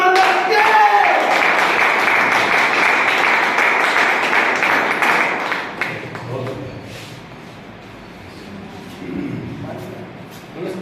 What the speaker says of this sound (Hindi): आप लोगों की जोरदार तालियों के बीच